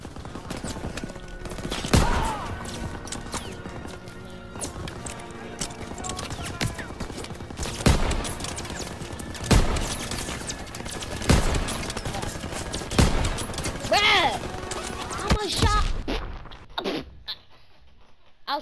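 Bursts of machine gun fire in a Call of Duty WWII battle near a farmhouse hayloft, sharp cracks recurring every few seconds amid steady combat noise, with voices calling out over the din.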